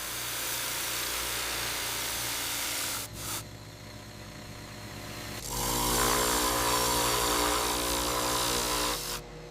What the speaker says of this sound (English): Deep polishing creates a mirror-like finish.